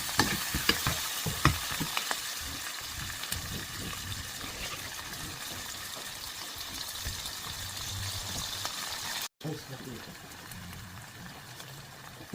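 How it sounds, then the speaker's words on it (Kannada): Onions with salt frying steadily in a pan, giving a continuous close sizzle with occasional stirring scrapes throughout. "ಸೊ ಸಾಲ್ಟ್ ಹಾಕಿದ್ರೆ ಗೋಲ್ಡನ್ ಬ್ರೌನ್ ಆಗೋರಿಗೆ ಫ್ರೈ ಮಾಡ್ಬೋದು ಆನಿಯನ್ಸಲ್ಲಿ"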